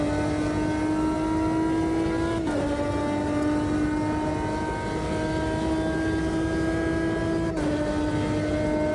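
A Ferrari GT1 race car engine drones steadily in Automobilista 2, circa 2005 at Road Atlanta, holding a loud, buzzing tone with two brief dips in pitch as gears shift, continuous throughout.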